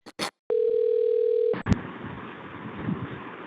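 A telephone dial tone sounds steadily for about a second while a call is placed, preceded by a few short beeps and followed by a click and faint line noise, with no talking.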